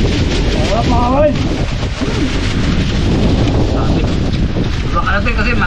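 Strong wind blowing outdoors, buffeting the microphone with a continuous loud roar for the whole stretch, with voices and chatter faintly audible beneath it.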